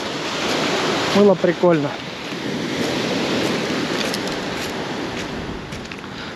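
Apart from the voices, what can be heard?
waves on a beach at Makopse, Black Sea coast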